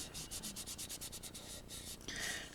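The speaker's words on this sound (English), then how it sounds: "I'm going to flip it over on the score side and give it a good rub." A flipped-over sheet is rubbed firmly on its scored side, giving a steady run of rhythmic, close scrubbing strokes that shift to a brighter, continuous rub near the end, with no talking.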